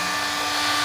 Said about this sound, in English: It's a Dremel.